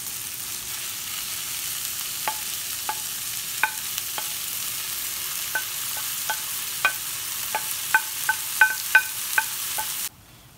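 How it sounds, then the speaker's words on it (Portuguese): Shredded salt cod being stirred into browned onion in a frying pan, with a steady low sizzle and scattered light clicks of a utensil against the pan, close and alone with no voices. "Após dourar a cebola, agora eu vou acrescentar o bacalhau desfiado."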